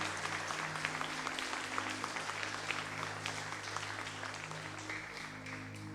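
Church congregation applauds steadily during a worship service, a dense continuous wash of clapping over a low sustained organ or keyboard hum, tapering a little near the end.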